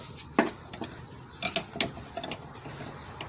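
A line wrench working a 5/8 brake line fitting on a 1993 GMC C3500 during a brake booster replacement gives a handful of faint, scattered metallic clicks and ratchety scrapes, with quiet gaps between them.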